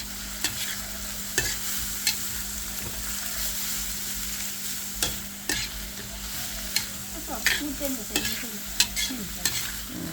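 Bamboo shoots and pork belly are stir-fried in a pan, with a steady sizzle under repeated scraping and stirring strokes from a utensil, close and fairly loud, with no voices.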